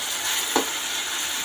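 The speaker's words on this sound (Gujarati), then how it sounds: "હવે આપણે નાખવાના છે ભાગેલા રીંગણા, ચમચાથી સરસ મજાના હલાવી દઈશું" Mashed roasted eggplant stirred with a spoon into garlic browned in oil, giving a steady close sizzle with one brief scraping stir in the middle.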